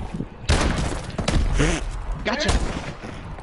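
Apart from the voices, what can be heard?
gunshots in a shooter video game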